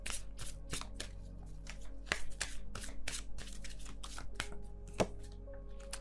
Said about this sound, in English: I'm not shuffling very quickly or anything.